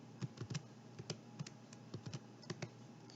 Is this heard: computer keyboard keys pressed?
yes